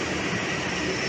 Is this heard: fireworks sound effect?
no